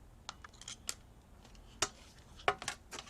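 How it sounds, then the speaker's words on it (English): Scissors snip through cardboard in a series of short, sharp, irregular cuts, close and fairly quiet, with no talking. "Now I need my scissors to get this cardboard through there."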